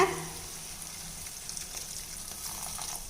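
Coconut milk poured into a simmering egg gravy gives a soft, steady sizzle and bubbling that starts with a brief clatter and then settles into a quiet, even hiss.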